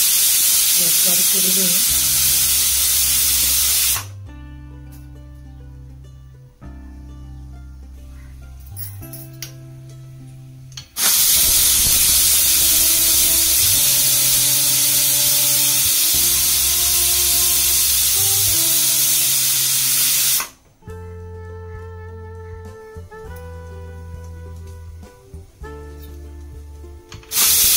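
Steam hisses from a lifted pressure cooker whistle over goat trotter (mutton paya) curry, two long, loud, steady bursts separated by quieter stretches, with background music and a brief spoken remark.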